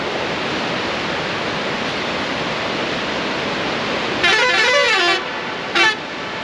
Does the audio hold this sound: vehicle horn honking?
yes